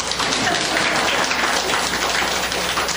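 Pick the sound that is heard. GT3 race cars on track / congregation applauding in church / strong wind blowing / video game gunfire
congregation applauding in church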